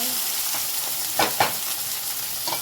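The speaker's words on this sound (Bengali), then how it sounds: "এটা ভেন্ডি দিয়ে ভাজবো, এই ডিম দিয়ে ভাজবো" Okra frying with egg in a pan, a steady close sizzle with a couple of brief stirring scrapes, no talking.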